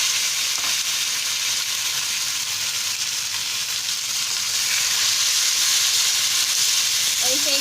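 Tomatoes hitting hot oil seasoned with asafoetida and panch phoron, giving a loud, steady hissing sizzle that stays close and continuous throughout.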